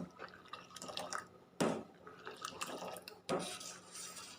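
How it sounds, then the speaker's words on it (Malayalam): A spoon stirs masala chai boiling in a pot, giving a bubbling, liquid backdrop broken by two sharp metallic clanks against the pot. Nobody speaks. "പൊങ്ങിപ്പോവാതെ ഇങ്ങനെ ഇളക്കി കൊടുത്ത് നോക്കാം"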